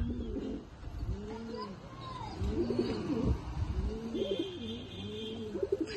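Pigeons in a collection coo steadily in overlapping, throaty rolls, soft and close, with a faint whir of background noise and no talk.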